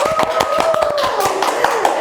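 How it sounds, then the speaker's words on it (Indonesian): Close, rhythmic handclaps from a small group at a nursing college profile shoot, steady beats over a couple of seconds while people keep talking over them. "Tepuk guys."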